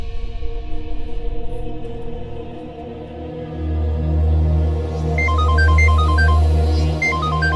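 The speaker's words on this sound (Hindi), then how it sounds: "ऋतिक का फोन?" A phone ringtone plays in a tense scene of the Hindi TV drama Naagin, a repeating electronic melody that enters partway through over a low sustained musical drone and keeps cycling to the end.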